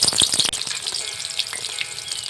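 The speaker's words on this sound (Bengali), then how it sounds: "তেলটা গরম হলে পেঁয়াজ কুচি কড়াইতে ছেড়ে দিন।" Chopped onions hit hot oil in a wok with a sharp burst of crackles, then settle into a steady, close sizzle with scattered pops.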